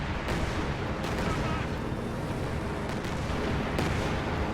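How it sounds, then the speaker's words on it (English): In a World War II video game, a P-47 fighter-bomber's rocket strike hits a Panzer IV tank. It sounds like a dense, continuous barrage of loud explosions and gunfire, with several heavier blasts booming out over the din. "P-47 strike got called in on the Panzer IV again"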